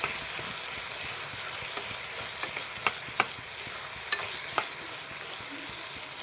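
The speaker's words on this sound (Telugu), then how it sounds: "కోసి పెట్టుకున్న టమాటా ముక్కలు టమాటా ముక్కలన్నీ కలుపుకోవాలి" Chopped tomatoes stirred into a broad bean curry frying in a pan give a steady close sizzle and hiss, with a few sharp clicks of the spoon against the pan.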